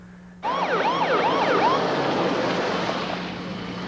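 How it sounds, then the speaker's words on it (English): A Clayton County Fire Med ambulance siren suddenly starts loud and close, wailing in fast rising and falling sweeps before settling into a sustained blare over engine rumble, with no speech. "Within 5 minutes of the call, a Clayton County Fire Med unit arrived, including paramedic Todd Graves."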